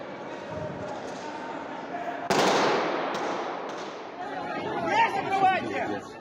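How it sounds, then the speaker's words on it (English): Gunfire rings out inside the Crocus City entertainment complex outside Moscow, a sharp burst followed by rapid echoing shots that reverberate through the large hall, with a crowd's murmur underneath. "The sound of gunfire echoes inside an entertainment complex on the outskirts"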